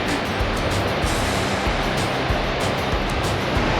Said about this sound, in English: the amount of water that flows through here could fill 6 Olympic-sized swimming pools every second